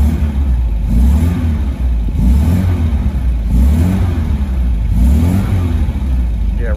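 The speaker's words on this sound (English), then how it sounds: "Lovely sounding engine." A 1974 MGB roadster's engine runs loud and close, with low, rising and falling revs in repeated swells and a steady rumble throughout.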